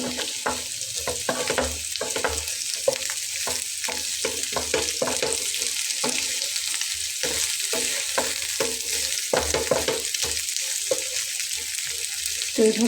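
An egg dish sizzles in a pan, a steady close frying hiss broken by regular scraping and stirring strokes throughout, with no talking.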